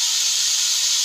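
Chopped onion greens (spring onion leaves) tip into hot oil in a pan and set up a loud, steady sizzle that holds evenly for about a second with no pauses.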